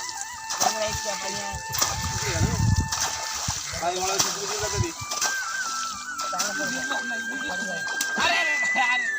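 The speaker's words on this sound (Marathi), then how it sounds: "बघा समीरची आणि परजेलची कशी मारामारी चालली पाण्याची" Children, Sameer among them, splash each other in a river during a playful water fight, with bursts of sloshing water under excited voices and chatter.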